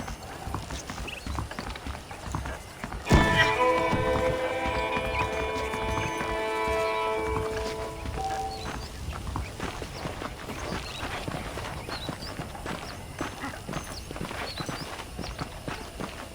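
Horses' hooves clip-clop at a steady walking pace in the Western video game Red Dead Redemption, close and clear over a low outdoor ambience, with a brief musical sting near the start.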